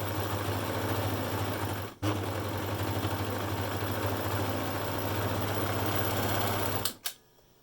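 A sewing machine runs steadily, stitching down the centre seam of a fabric face mask with the main top fabric placed right sides together; a continuous motor hum with one brief pause before it stops near the end.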